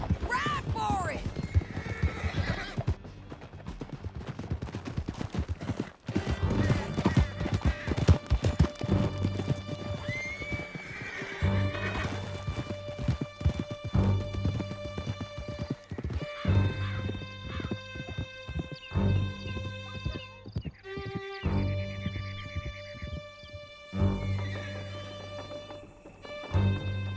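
Horses gallop at a steady clip-clop in Red Dead Redemption 2, with occasional neighs and whinnies, running continuously under a bed of game music and a speaking voice.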